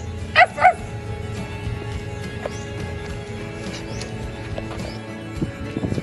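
Dog barks twice in quick succession near the start, fairly close. Quieter background noise follows, with faint animal sounds toward the end.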